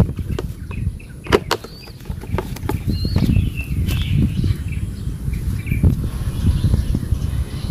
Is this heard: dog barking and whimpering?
no